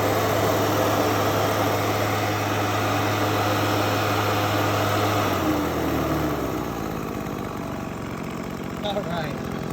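Engine-powered gold prospecting dry washer running in Arizona, a steady loud small-engine drone with rattling vibration that drops in pitch and loudness partway through, then continues rumbling more quietly.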